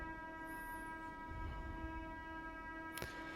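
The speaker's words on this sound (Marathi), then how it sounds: "2 मिनटं ट्रेन जाऊ द्या।" A train passing by, a steady tonal hum with low rumbling heard from a distance and faint, with a brief sharp click near the end.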